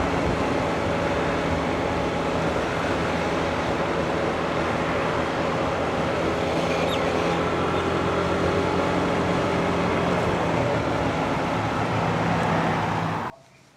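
A scooter ride along a long straight four-lane highway with traffic, a constant loud rush of wind and engine drone with road noise and no pauses, cutting off abruptly at the end.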